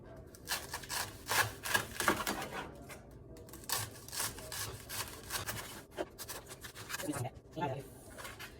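Knife slicing through cabbage with a dull blade, repeated quiet crunching rasps in an uneven rhythm, faint and close, with a person talking over it.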